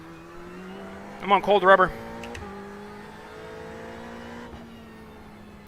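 An X30 kart engine in a racing video game hums steadily throughout, with a brief burst of louder revving near the start while someone talks over it.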